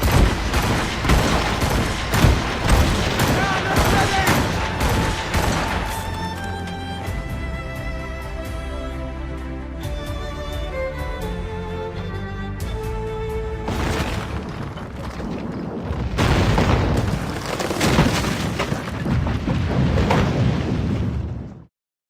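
A naval battle in the video game Assassin's Creed Rogue: loud, dense volleys of gunshots and booming cannon fire, a calmer musical stretch in the middle, then another heavy barrage before a sudden stop.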